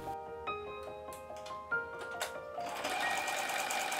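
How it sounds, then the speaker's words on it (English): A sewing machine slowly stitches a button onto clothing, its needle ticking in short uneven bursts before running into a steadier, busier whir toward the end, close and clear with no talking. "Make sure the needle goes through both holes and slowly sew a few stitches."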